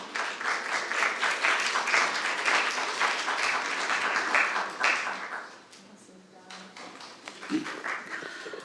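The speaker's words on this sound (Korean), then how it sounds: "큰 박수 부탁드리겠습니다." An audience at a public lecture and panel discussion on moving beyond nuclear power after Fukushima applauds a lawmaker. The clapping is dense and sustained for about five seconds, then fades into the quiet murmur of the room.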